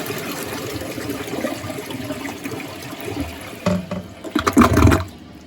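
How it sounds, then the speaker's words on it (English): Toilet flush in South America on Easter Island, a low rushing swirl of water building under faint background noise, then a loud gurgling surge near the end that quickly drains away. "when you flush a toilet in South America?"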